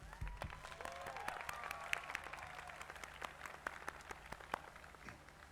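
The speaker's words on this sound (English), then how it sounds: "Please join me in a heartfelt round of applause for all of today's graduates" A commencement audience at the American University of Iraq Suleimani applauds graduates, a continuous, fairly distant wash of clapping with scattered sharper claps and faint crowd noise.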